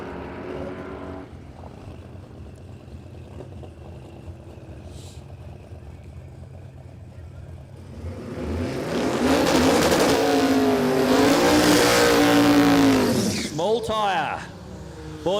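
At a no-prep drag strip, an LJ Holden Torana and a Jeep Grand Cherokee launch. A commentator talks over a low idle before the engines swell into a loud, sustained roar that rises and falls through gear changes.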